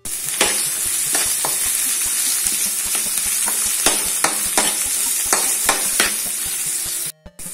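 Onion and three green chillies sautéing in hot oil in a pan for chayote squash poriyal, a loud steady sizzle broken by repeated sharp spatula scrapes and taps, close up with no talking.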